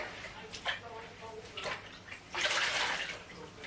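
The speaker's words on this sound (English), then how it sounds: "I'll put some warm water in a bucket here. And I'm just going to give it a rinse out so it's all nice and clean." Warm water sloshing in a bucket as a cloth is rinsed out for tack cleaning, a few soft splashes and trickles, then a fuller, louder swish of water near the end, close and steady.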